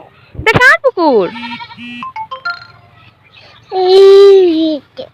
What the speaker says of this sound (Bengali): এইগুলা কার ছাগল দেখছো? অনেক ছাগল।